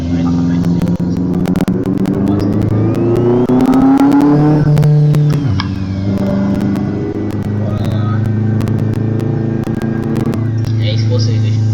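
A Chevette 1.6 turbo car engine revs hard while drifting, a loud, close engine note whose pitch climbs and then drops sharply, with speech heard alongside.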